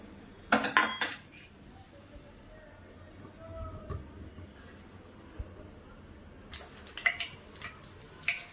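A metal cooking pot for dal clatters in two short bursts of clinks and knocks as oil goes in. The first burst comes early and the second near the end, with a quiet kitchen between them.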